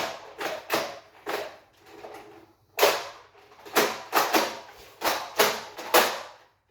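A Nerf Hyper Rush-40 toy blaster fires about a dozen rounds in uneven bursts, each a sharp, close snap with a brief mechanical rattle and no talking between shots.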